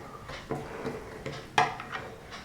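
A spoon scrapes and clinks against a bowl while garlic and chili powder are mixed, giving a run of irregular close knocks and scraping strokes with one sharper clack partway through and no talking.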